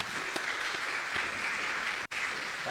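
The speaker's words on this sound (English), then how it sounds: "Please feel free to go ahead and give them a hand clap right now" Audience clapping at a town hall on Arkansas ballot measures in Little Rock, a steady, faint wash of applause heard from a distance, with a brief dropout near the end.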